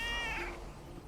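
A cat gives a single short meow, faint and brief, over a steady background hiss.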